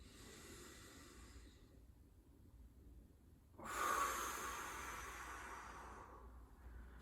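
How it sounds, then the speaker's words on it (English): Slow, deep breathing during a calm yoga-style standing posture on a mat: a quiet airy breath, then a louder, fuller exhale-like rush of air that lingers for a few seconds, close and alone. "Take a few deep breaths, get calm."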